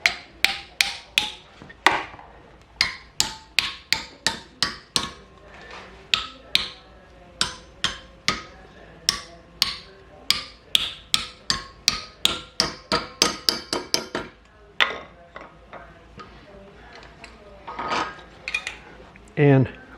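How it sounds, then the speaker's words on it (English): Repeated sharp metallic hammer blows on metal held in a vise, bending a motorcycle license plate holder, strike in a steady rhythm, loud and close, with brief pauses between groups of strikes. "Tighten your vise, and then we're going to take the hammer"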